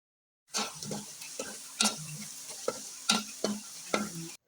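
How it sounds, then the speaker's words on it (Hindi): Onions and ground garlic browning in a pan over medium heat, stirred with a spoon while cooking for chicken biryani: a steady sizzle with a scrape of the spoon about once a second, close and clear. "अब हमने प्याज़ों को मीडियम आंच पे ब्राउन करना है और हम इसमें चम्मच चलाते रहेंगे।"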